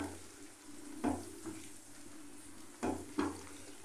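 Chicken in marinated yogurt gravy frying in a pan for chicken changezi, a soft low sizzle broken by a few short bursts as it is stirred, with no voices.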